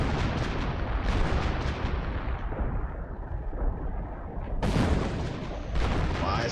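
Heavy Hummel self-propelled artillery fire in a war video game, a dense barrage of booming blasts and crackling impacts, loud and continuous with a fresh burst of shells landing partway through.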